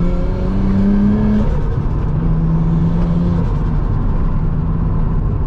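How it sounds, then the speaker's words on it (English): A Nissan Skyline on a new exhaust runs steadily from inside the cabin, a constant loud engine drone with a faint whistling whine of the turbo rising and falling over a low rumble. "Can hear the turbo spool up now"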